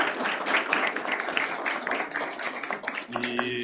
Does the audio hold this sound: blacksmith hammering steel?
no